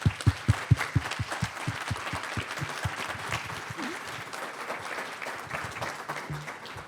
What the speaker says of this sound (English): I think she deserves a round of applause as she comes up.